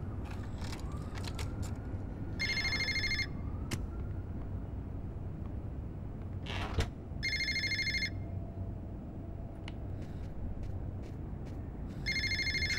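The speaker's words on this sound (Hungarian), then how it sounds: "Csörög a telefon," Telephone ringing in the video game Fahrenheit: three separate bursts of an electronic ring, each lasting under a second and spaced several seconds apart, over steady low background rumble and scattered clicks.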